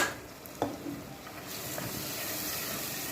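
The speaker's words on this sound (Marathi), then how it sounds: "मी आता चण्याची डाळ हरभऱ्याची डाळ टाकते" Chana dal tipped into a hot pan, with a brief clatter followed by a soft, continuous sizzle and hiss, quiet and close, with no talking.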